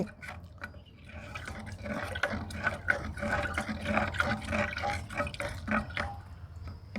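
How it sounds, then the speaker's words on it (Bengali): A bamboo stick slowly stirs fermenting oil cake liquid inside a narrow-mouthed clay pot, giving soft wet sloshing and dripping that swirls continuously and close by, with no talking. "বাঁশের কাঠি এই কাঠি দিয়ে আমি এইভাবে আস্তে আস্তে নেড়ে দেব"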